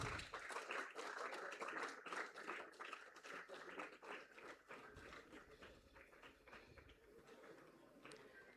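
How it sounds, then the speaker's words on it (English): Applause from an audience at a school proficiency award ceremony: a dense, steady patter of many hands clapping that thins slightly toward the end, heard faint and distant. "we can give a brighter applause to him"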